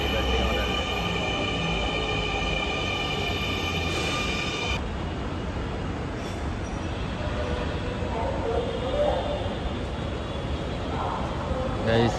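A Dhaka metro rail train pulls into a station with a sustained rumble, whine and some wheel squeal, while people talk over the busy platform noise.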